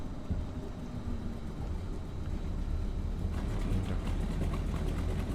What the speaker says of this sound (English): There's the left engine starting there.